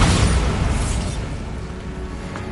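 Bombarda spell explosion in a Harry Potter video game, a loud low boom that rolls off into a rumbling, fading crackle.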